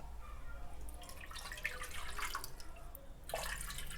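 Water, about four cups, is poured into an unglazed clay cooking pot, giving a soft, faint splashing and trickling that runs continuously for a few seconds, with no one talking.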